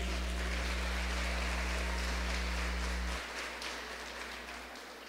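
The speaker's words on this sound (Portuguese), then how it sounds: "Salva de palmas para Jesus." A church congregation applauds, a dense, continuous patter of many hands over a steady electrical hum, easing off slightly partway through.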